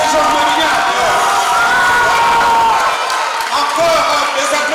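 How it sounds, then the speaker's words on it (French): A loud crowd cheers, whoops and applauds continuously at a school theatre contest final, with voices rising and blending into one dense roar. "des applaudissements pour le lycée Georges Lavignette"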